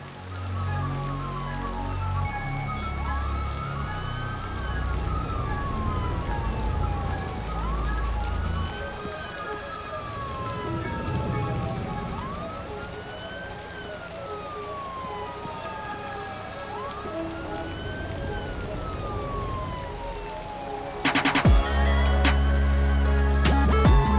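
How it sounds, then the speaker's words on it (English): Police car siren in the city-building game Cities: Skylines, a wailing siren sweeping up and down repeatedly over a low game-ambience bed, joined near the end by a sudden loud burst of other game sound. "We should already now have a police car coming out of here soon."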